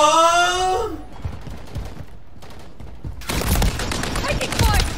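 Gunfire in Call of Duty comes in a dense burst of rapid shots near the end, after a quieter stretch of game noise, with a brief wailing tone at the start.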